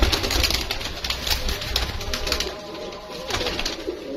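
Teddy pigeons coo softly in a loft, the low murmuring calls blending with a bright bed of other bird chatter and faint background rustle, moderately close and fairly quiet.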